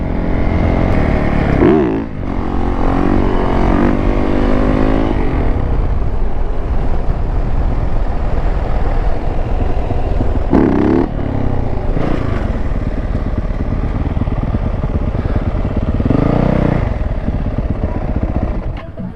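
Dirt bike engines rev hard at a racing lot, a loud close buzzing roar that rises and falls through repeated throttle blips, with another motor droning underneath throughout.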